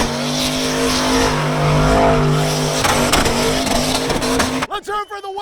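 A Ford LTD wagon's 5-liter turbocharged engine roars and revs loudly at close range, tires squealing, before the noise cuts off and a voice shouts briefly at the end.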